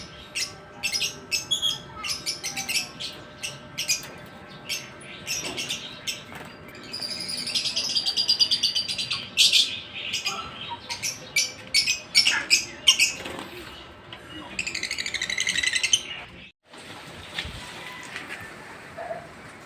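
Lovebirds in a new, roomy cage make a steady stream of rapid, high chirps and squawks, close and lively throughout, with a brief pause near the end.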